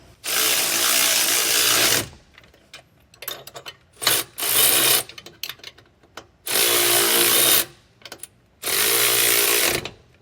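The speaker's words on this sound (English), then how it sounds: "Using a 3/4 inch socket and wrench." A 3/4 inch socket and wrench tighten nylock nuts onto leaf spring suspension bolts, giving several loud bursts of rapid ratcheting or grinding lasting a second or two each, separated by short quiet gaps and small clicks.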